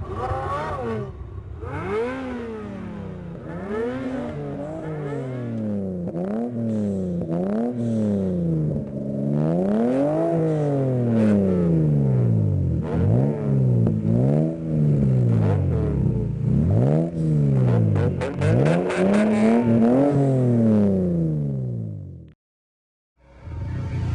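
A Ferrari engine revs and accelerates through repeated gear changes, each pull rising in pitch then dropping, loud and close before briefly cutting out near the end.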